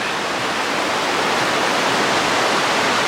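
Creek water rushing hard past a washed-out bridge on a forested stretch of the Pacific Crest Trail, a loud, steady, close roar of churning flow with no other sounds.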